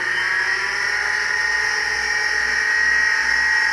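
A Katoku KDC-240d double head sharpening machine runs at top speed with a steady, loud, high-pitched motor whine that holds constant throughout.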